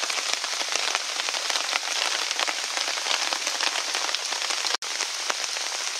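Steady rain drums on a hammock tarp at night at a bushcraft bivouac, a dense, close, continuous patter with no voices.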